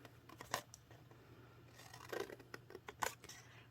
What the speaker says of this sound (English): I'm going to cut off a little angle and then cut it about halfway off